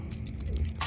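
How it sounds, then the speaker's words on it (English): A ring of house keys jingles briefly up close, a short metallic rattle with a brighter clink toward the end. "My regular house keys."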